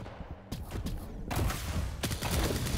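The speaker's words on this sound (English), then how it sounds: "the LG from klyb doesn't really work, but the shotgun does the trick" Shotgun blasts and lightning gun fire in an arena shooter match, coming as a quick cluster of sharp booming shots and crackling bursts at moderate loudness, with no commentary over them.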